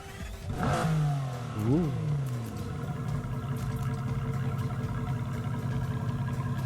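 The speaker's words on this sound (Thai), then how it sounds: "นี่คือ รอบเครื่องยนต์ของ V12" Engine revving of a Nissan GT-R R35 fitted with a V12 in the racing game NFS Heat: a loud rising and falling rev sweep near the start, then a steady idle-like drone, with some talk over it.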